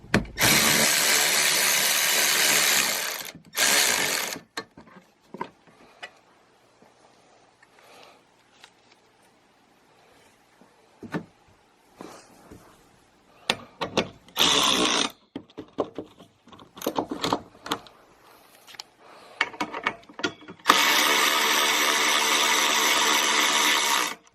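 Fittings are tightened on a steel platform bed frame with a buzzing power tool in loud bursts at the start, briefly in the middle and again at the end. Quiet handling clatter fills the gaps between the bursts.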